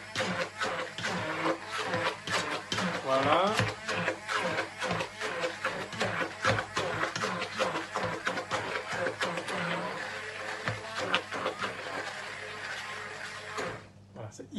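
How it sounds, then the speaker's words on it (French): A hand blender whirs steadily while it purees mashed potato seasoned with pepper and milk. The motor hum runs for about fourteen seconds under a person's talking, then cuts off. "je vais utiliser le mixeur."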